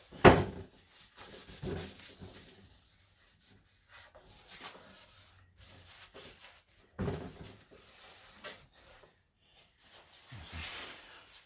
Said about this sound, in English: I go all around the door, clean it with Scotch Brite, wiping it with tissue